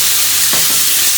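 Chicken mince frying in a pan, a loud continuous sizzle and hiss with a brief stirring scrape in the middle, close and without any talk.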